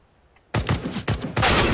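Gunfire in a first-person shooter video game: after half a second of near silence, three loud, sharp bursts of shots crack out close together, the last one the heaviest, with no talking over them.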